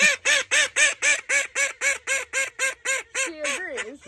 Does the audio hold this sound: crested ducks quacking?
yes